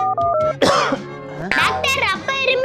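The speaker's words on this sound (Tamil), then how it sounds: "அப்பா இப்படி இரும்புறாரு" A man coughs and clears his throat several times in harsh, close bursts, with speech-like vocal sounds mixed in between the fits.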